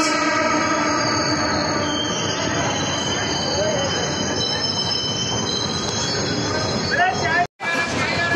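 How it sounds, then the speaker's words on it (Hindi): Train at Kota Junction railway station, wheels squealing loudly and steadily on the tracks with a metallic rolling roar throughout, a brief dropout near the end before the noise resumes. "फिर मैं आ चुका हूँ कोटा जंक्शन, और यहाँ से मेरा सफ़र शुरू होता है ट्रेन का।"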